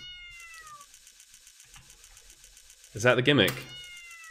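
Cat character meowing in the video game Yume 2kki, a short pitched meow near the start, followed by a louder burst of meowing as someone speaks briefly.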